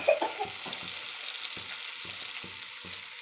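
Onions and a pinch of asafoetida fry in hot oil, giving a soft, steady sizzle with faint spoon stirs tapping out a regular rhythm throughout.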